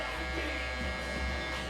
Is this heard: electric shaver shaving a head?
yes